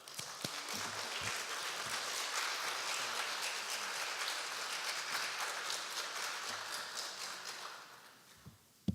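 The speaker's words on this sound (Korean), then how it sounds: "우리 교수님, 우리 안수 집사님 나오실 때 큰 박수로 환영해 주시면 감사하겠습니다" An audience at a church mothers' prayer meeting claps to welcome a professor to the stage, a dense steady applause that holds for several seconds and then fades out toward the end.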